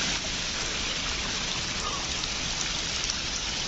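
Water pours from above into the second pool of a rocky gorge at Penchalakona, a steady, close, full-bodied rush with no pauses and no voices.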